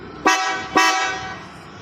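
An old Pobeda car horn sounds twice in quick succession, two loud, bright honks close by, each fading out into a low background hum.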